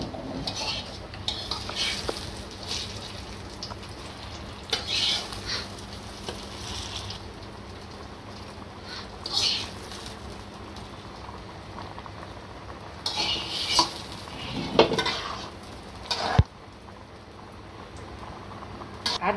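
A fish curry with bata fish and ridge gourd cooks in a pot, with sporadic metallic clanks and scraping stirs over a quiet simmer, and occasional faint voices in the background.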